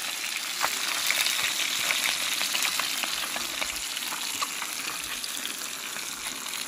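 Black mojarra fish from the Lempa River fry in hot oil in a pot, a loud, dense sizzle with rapid popping and spitting crackles that continues steadily and close up, no voices heard.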